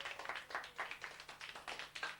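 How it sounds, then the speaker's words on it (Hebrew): Applause for a birthday girl, a small group clapping quickly and fairly evenly for about two seconds, heard from a moderate distance and fairly quiet, with no speech over it. "תנו לה מחיאות כפיים"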